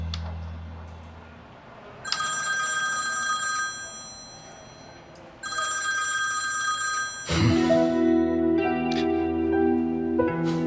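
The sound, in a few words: telephone ringing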